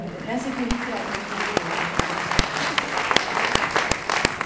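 Audience at a French political party debate applauds, a dense stretch of clapping punctuated by sharp individual claps, with voices talking underneath.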